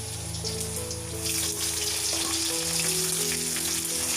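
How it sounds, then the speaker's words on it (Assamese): Panch phoron, ginger and dried chillies sizzling in hot oil left from frying paneer: a steady, crackling fry that grows louder partway through, with a faint hum running underneath. No voices. "এতিয়া পনীৰ ফ্ৰাই কৰা তেলতে 1 চামুচ পাঁচফোৰণ দি লৈছোঁ আৰু দিছোঁ কাটি লোৱা আদা, শুকান জলকীয়া"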